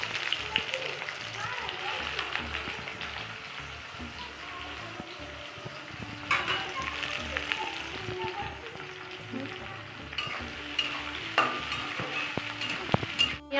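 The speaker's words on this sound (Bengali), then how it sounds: "আর এখন এই যে পেঁয়াজগুলো কুচি করা ছিল সেই পেঁয়াজগুলো এখন দিয়ে দিচ্ছে" Chopped onions sizzle and fry in hot oil in a home kitchen, a steady close crackling hiss running throughout. Faint stirring and a few clinks come through now and then, with a little talk in the background.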